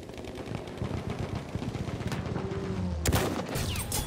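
Rapid automatic gunfire from the video game Battlefield 1 on a desert map rattles steadily in dense bursts, then a louder heavy blast lands near the end, all close and loud with no talking.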